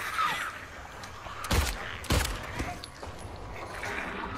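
Two sharp gunshots ring out about half a second apart in Silent Hill 2, loud against a murky, low ambient drone, with faint scattered noises around them.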